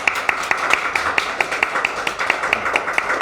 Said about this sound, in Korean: 우리가 축하의 박수를 같이 드립니다